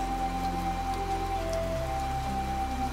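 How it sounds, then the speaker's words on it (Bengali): Heavy monsoon rain drums on a tin roof in a Bangladeshi village, a dense, steady wash of patter with no pauses and a low hum beneath it. "বৃষ্টির ভীষণ আওয়াজ, ঝম ঝম ঝম"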